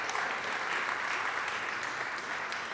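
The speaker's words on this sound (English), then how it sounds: "you can give them a round of applause, I feel" A crowd at a European Maritime Day event claps in a steady, even round of applause, a dense continuous patter from start to finish with no voices over it.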